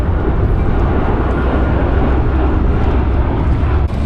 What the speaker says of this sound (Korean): 비행기가 멋있게 날아가네